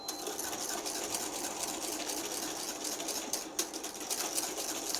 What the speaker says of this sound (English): So you want to make sure that you're whisking with a wire whisk.